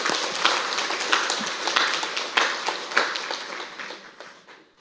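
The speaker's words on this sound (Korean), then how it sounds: "한번 박수 한번 하겠습니다" A church congregation claps together in moderate, fairly close applause, lively at first and then gradually tapering off toward silence.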